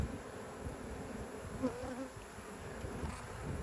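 Honey bees drone in a steady buzzing hum at close range while a hive frame with brood and royal jelly is inspected, the buzz holding even throughout with a few louder passes.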